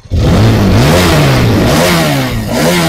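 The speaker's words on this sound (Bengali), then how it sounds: "যে বাইকটার সাইলেন্সারের সাউন্ড কিরকম আছে সে সাউন্ডটা আমরা শোনাবো" Hero XMR 210 motorcycle exhaust revving close up, a loud throaty engine note rising and falling through several throttle blips with no talk.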